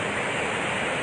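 Floodwater released from Magat Dam roars in a loud, unbroken rush of white noise, powerful and close, with no pauses or other sounds.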